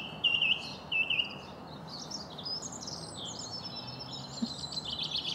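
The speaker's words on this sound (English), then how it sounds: "Got a cacophony around me of chaffinches and song thrushes." Chaffinches and song thrushes sing at once near Great Chesterford, England, bright chirping phrases and trills layered over a steady outdoor hum, with a few louder calls close by near the start.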